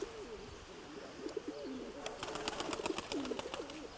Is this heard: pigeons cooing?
yes